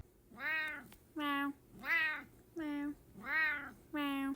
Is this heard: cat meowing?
yes